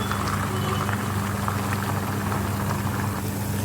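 Onions sizzle in hot oil in a pan on a gas stove, a steady, close crackling hiss with no voices.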